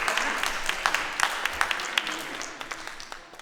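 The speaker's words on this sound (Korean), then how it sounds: "박수 부탁드립니다." Steady crowd applause with many overlapping hand claps and a few sharper individual ones. It comes from the audience at a children's Korean storytelling contest, tapering off slightly toward the end.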